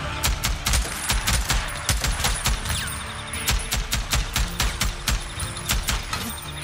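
Heavy machine gun fire in the video game Days Gone rattles out in loud, rapid bursts, sharp closely spaced shots broken by short pauses, close and dominant.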